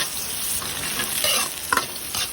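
Plenty of garlic and ginger sauté in hot oil, sizzling close and steady with the scrape of stirring and a couple of sharper clinks.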